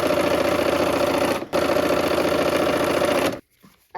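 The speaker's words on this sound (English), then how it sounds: "we're gonna go ahead and sew on the line for these as well" A sewing machine runs steadily, stitching along a drawn line on fabric, with a brief pause near the middle before stopping near the end; loud, close and continuous with no talk.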